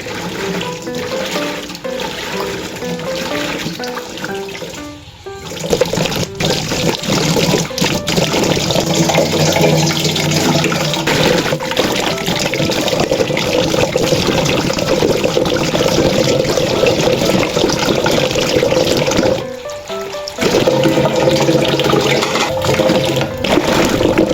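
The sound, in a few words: washing vegetables and spices under running tap water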